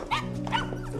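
A dog gives a short, close yelp or bark, a single brief bright burst over a low steady background hum.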